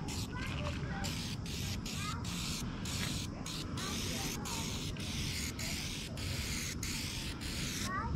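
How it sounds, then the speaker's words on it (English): Long bursts of hissing spray onto a work van to remove old letter glue, repeated with brief breaks between them, close and steady. "I'm gonna spray this whole thing."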